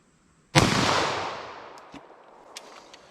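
A single loud handgun shot fired with Winchester Silvertip .40 S&W ammunition, a sharp close crack followed by a long decaying echo and faint clinks as the report fades outdoors.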